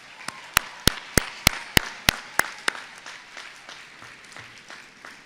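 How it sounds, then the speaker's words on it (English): Audience clapping at a university commencement ceremony: a quiet run of sharp, evenly spaced claps that thins out and fades over a few seconds. "Let's give them all a round of applause again."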